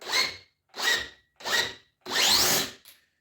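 A cordless drill drives a screw into wood in four close, loud whirring bursts, the final burst running longest before stopping.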